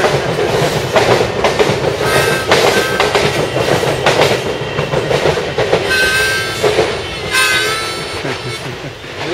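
A harmonica imitates a train with loud, rhythmic chugging breaths and bright whistle-like chords, its pulsing beat stopping and starting throughout.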